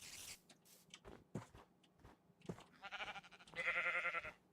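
A sheep in Minecraft with the Better than Wolves mod gives a few soft, nasal bleats near the end, following scattered faint clicks and quiet movement sounds.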